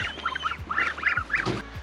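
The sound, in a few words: baby ducks quacking in a Moldovan village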